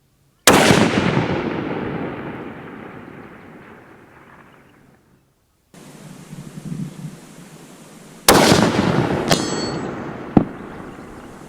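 Two loud, close rifle shots from a Remington 700 SPS AAC-SD chambered in 6.5 Creedmoor on a 1000-yard range, each a sharp crack followed by a long rolling echo, with a faint distant impact afterward.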